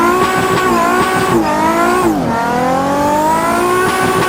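A car drifting sideways with the handbrake dragging the rear end, the engine droning loudly with harmonics that rise and fall as the revs change, a tire squeal running steadily underneath, close and continuous.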